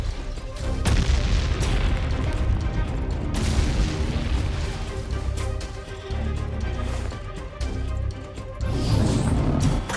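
Artillery fire with French army shells bursting across hills and cliffs behind coastal forts and a foreign residential area: loud, repeated heavy booms merge into a continuous rumbling barrage that barely lets up.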